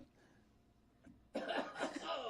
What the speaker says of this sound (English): It was a fake cough.